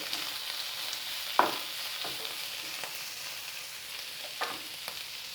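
Chopped garlic and ginger frying in a pan for homemade chapati noodles, a steady close sizzle with a few sharp clicks of stirring, heard alone without talk.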